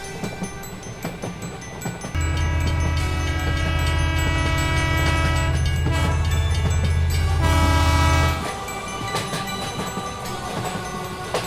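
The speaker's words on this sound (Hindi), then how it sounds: "अब इन लोगों की ट्रेन भी चल देती है" A train begins to move with a deep, steady low rumble that rises and holds for several seconds amid a busy, music-filled animated scene, then drops away abruptly.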